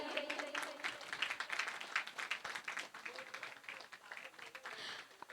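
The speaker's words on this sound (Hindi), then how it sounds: "जोरदार तालियां बजनी चाहिए" An audience at a theatre group's felicitation ceremony claps for an honoree, uneven clapping that swells and dips for about five seconds, with voices talking over it.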